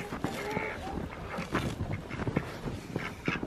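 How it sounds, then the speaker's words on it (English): Ducks quack intermittently in a snowy farmyard, short raspy calls scattered across a few seconds over faint background noise and shuffling. "The ducks love the snow."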